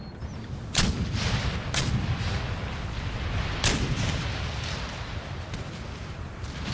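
Artillery guns fire in an Empire Total War battle, two loud, sharp booms spaced a few seconds apart with fainter shots between them, all over a steady roar of battlefield noise and no talking.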